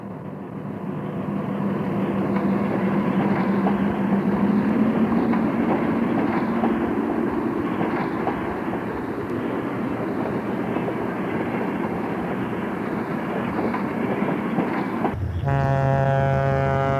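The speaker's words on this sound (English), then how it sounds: "New FP7s on Train 7, the northbound Schuylkill at Reading's outer station." Reading Company FP7 diesel locomotives hauling northbound passenger train 7 past Reading's outer station, a steady loud rumble with rail clatter throughout, then a horn blast rising near the end.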